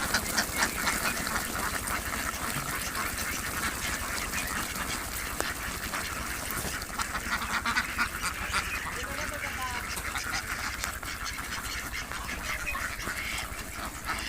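White Pekin ducks of the Peking Star-13 breed on a farm quack in scattered, overlapping calls, close and fairly loud, over continuous outdoor background noise.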